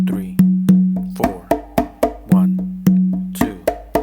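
Congas playing a slappy funk rhythm at a slow tempo, with sharp slaps and open tones in an uneven, syncopated pattern of about ten close, loud strikes, each ringing briefly before the next.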